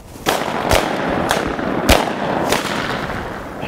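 Shotgun shots on a bird hunt at a southern plantation, several sharp loud blasts spaced irregularly across a few seconds, close by in open air, with no talking.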